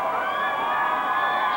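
A crowd of high school football fans cheers at a 1992 Illinois state championship game, a steady roar of many voices at a distance.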